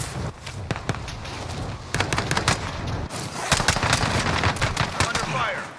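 Rapid bursts of automatic gunfire in Call of Duty: Modern Warfare crackle almost nonstop, dense and loud, with players talking over the shooting.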